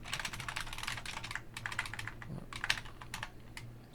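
Fast typing on a computer keyboard, close and quiet, with a rapid irregular clatter of key clicks broken by short pauses, no talking.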